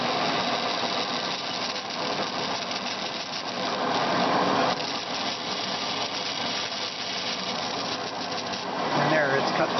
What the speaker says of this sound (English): I just put some pressure on the blade and it cuts